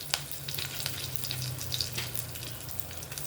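Curry leaves, asafoetida and turmeric sizzle and crackle in hot oil for a tempering, a steady close frying hiss with small pops and no talking.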